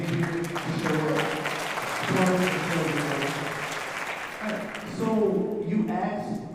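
Applause from a town hall audience in Humble, with steady clapping that swells and eases over several seconds while voices and chatter keep running through it.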